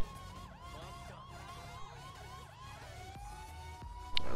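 A police car siren in GTA V, a steady rapid wailing yelp that shifts into a long rising tone, loud and continuous over a low engine rumble.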